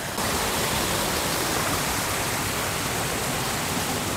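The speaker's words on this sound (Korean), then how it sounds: "비가 많이 왔는지 아예 물소리가 대단합니다." Rushing water of a stream swollen by heavy rain, next to a native honeybee apiary, roars loud and close as a steady, unbroken broadband wash with no voices.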